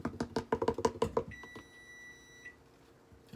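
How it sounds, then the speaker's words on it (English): A kitchen oven beeps once with a long, steady electronic tone near the middle, following a quick run of clattery knocks. Close and moderately loud, with no speech. "That's my oven."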